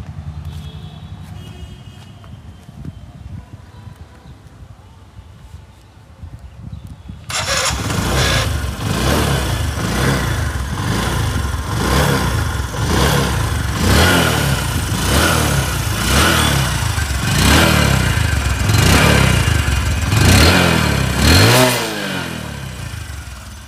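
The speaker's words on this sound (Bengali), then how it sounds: "আমি এখন আপনাদের বাইকটির সাউন্ড শোনাই দিচ্ছি।" A second-hand 2020 Bajaj Discover 125cc motorcycle with disc brake starts up after a quiet stretch, then runs loudly close by with repeated throttle revs rising and falling, ending in a final rev and cutoff.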